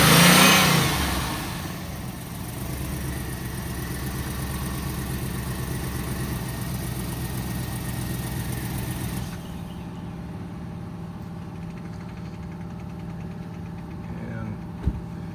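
A car at a police auction, just started with a jump box, runs and revs loudly for the first seconds and then settles into a steady idle. The engine drops somewhat quieter near the end.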